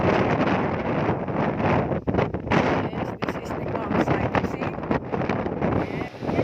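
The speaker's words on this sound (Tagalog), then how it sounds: "Narinig niyo po yung tunog ng hangin na napakalakas dito sa taas ng bundok." Strong, gusty wind on the summit of Mount Brigino roars and buffets the microphone continuously, with brief dips between heavy blasts.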